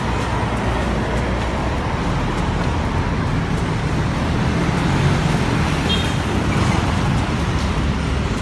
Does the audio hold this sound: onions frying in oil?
no